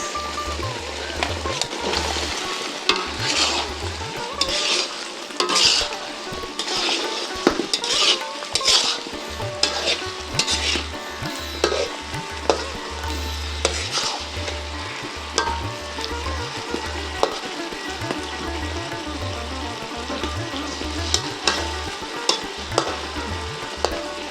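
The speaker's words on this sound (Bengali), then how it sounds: "দেখুন মশলাটা কষানো শেষ এখন দিব মাছ দিয়ে দিচ্ছি মাছ" Hilsa fish frying in spice paste in a pan for a raw-banana curry, a continuous close sizzle with spatula scrapes and knocks against the pan throughout.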